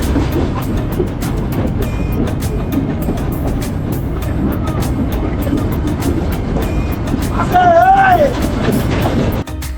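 Ooty toy train on the 46 km Mettupalayam to Udhagamandalam mountain line, a steady loud rumble of running carriages with rattling wheels throughout and a brief squeal near the end, voices murmuring faintly beneath.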